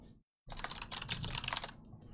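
Rapid clicking keystrokes on a compact 60% Razer mechanical keyboard, a dense, steady burst of close, crisp taps lasting about a second and a half with no talk.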